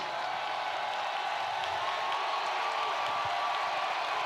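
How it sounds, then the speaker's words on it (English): Crowd cheering in an NCAA Football 2025 stadium during a Missouri State at Marshall game, a steady distant roar of many voices sustained without breaks. "Crowd getting into it."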